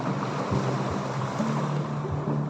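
Steady roar of surf and breaking waves close by, with a constant wash of water noise and some low rumbling throughout.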